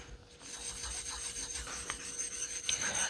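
A hard Asano Nagura Koma stone of 12K-plus grit rubs across a sharpening whetstone, making a quiet, close, continuous gritty scraping that grows slightly louder toward the end, with no voices.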